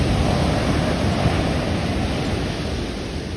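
Ocean waves break and wash onto the shore in a steady, loud roar of surf, with wind buffeting the microphone close by.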